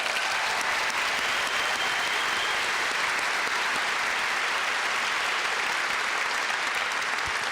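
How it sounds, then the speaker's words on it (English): A large audience claps steadily at a high school commencement ceremony, a dense, even wash of applause that holds at the same level throughout without any talking over it. "One more round of applause for Grant there"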